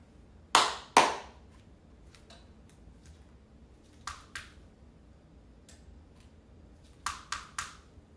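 Sharp, close hand claps set off a clapper switch for Christmas tree and star lights: two quick claps, then two more, then a quick run of three, with quiet gaps between and no voices.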